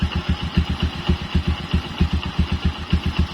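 A repaired engine idles with a steady, rapid chugging pulse, close and fairly loud, running alone without any talk.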